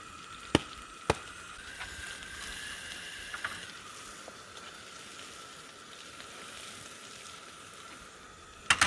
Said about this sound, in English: Just going to saute those onions a bit.